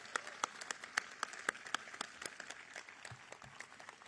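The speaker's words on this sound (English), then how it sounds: "give them a big round of applause as we start their graduation today." A ceremonial audience bursts into applause at a military change-of-command event in Miami, with a dense field of handclaps whose sharp individual claps stand out early before settling into a steady, moderately distant wash.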